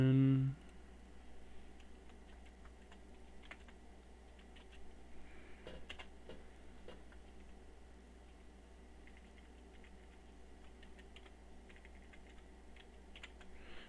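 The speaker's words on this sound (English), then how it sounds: "sorry, I'm typing it all out." Quiet, steady tapping of a computer keyboard runs throughout at a low level over a faint background hiss, with a brief louder sound at the very start.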